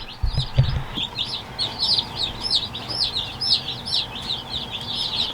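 Baby chicks, including black copper Marans, cheep in a busy cluster of high, rapid peeps that keep overlapping, close and fairly loud. One low thump sounds near the start.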